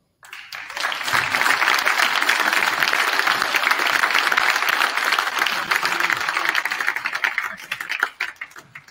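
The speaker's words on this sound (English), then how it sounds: "Please give another big round of applause" Dense applause from a crowd in a high school gym during a break in a varsity boys' basketball game, a steady wash of clapping that swells quickly, holds for about eight seconds, and tails off at the end.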